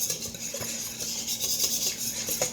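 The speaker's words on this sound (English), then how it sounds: "I'm just going to go ahead and mix it" Cream cheese and powdered sugar frosting mixed in a bowl for red velvet bread pudding, giving a soft, continuous scraping and stirring with light utensil clinks against the bowl, close and without talk.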